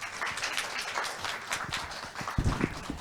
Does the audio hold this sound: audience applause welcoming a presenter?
yes